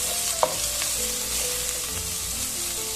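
Potatoes and onions frying in a pan for a mutton stew give a steady, close broadband sizzle with a few light scrapes and taps, and no voices.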